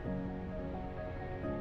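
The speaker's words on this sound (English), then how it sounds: "The highlight here is the sound of the ocean waves." Ocean surf at a beach beside US 101 in California, rolling as a steady, dense wash of noise with a low continuous hum underneath, no distinct individual breakers.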